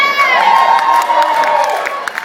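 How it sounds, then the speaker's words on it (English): A live comedy show audience cheers and whoops loudly, a sustained bright roar of many voices with shrill yells that holds steady before easing slightly at the end. "What a great crowd!"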